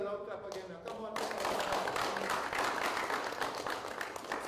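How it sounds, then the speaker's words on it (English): An audience at a TTPFL Tier Two football match claps in dense, rapid applause that swells after a short spoken lead-in and then holds steady. "give my brother here a loud clap again now"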